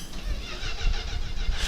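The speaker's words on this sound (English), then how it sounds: "Oh, car breaks down." A car engine cranks and sputters as it tries to start, a short grinding churn played back from a 1980s soap opera scene.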